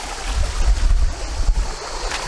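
Steady rushing of a stream flowing nearby, a broad watery wash with soft low gurgles and no voices.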